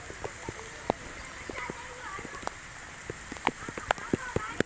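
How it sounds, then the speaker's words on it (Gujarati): Rain falls during an outdoor yoga and pranayama session on a Sunday morning, a faint, steady hiss broken by scattered light drips and patters. "આ ચાલુ વરસાદ છે અત્યારે"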